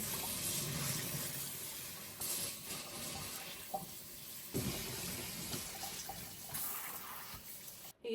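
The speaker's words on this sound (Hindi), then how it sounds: "मशीन छोटी है, इसलिए अभी मैं इसको ऐसे सिंक में धो रही हूँ।" Laundry being hand-washed in a sink under a running tap, a steady wash of flowing water with splashing and sloshing as the cloth is handled, close and continuous without speech.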